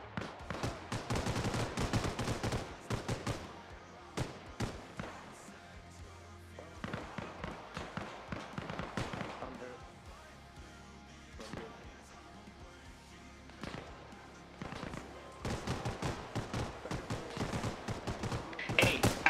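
Gunfire in the military video game Arma Reforger: dense bursts and single shots crack repeatedly, some close and loud, others farther off, with a continuous battle rumble underneath.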